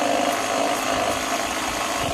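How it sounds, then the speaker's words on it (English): A portable air pump with its nozzle attached runs with a steady, loud mechanical buzz and drone, continuous and close, with no talking. "Air pump."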